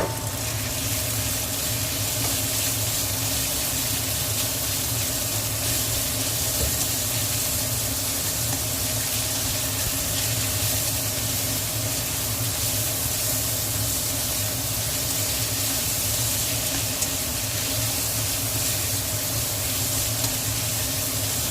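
Marinated pork for Hunan chili pork stir-fry sizzling in a wok, a steady, loud, hissing fry that holds constant throughout with no pauses or voices.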